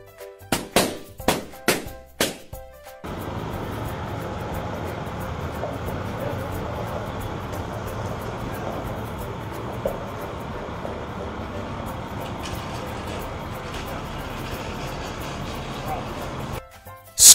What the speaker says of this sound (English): Cable car.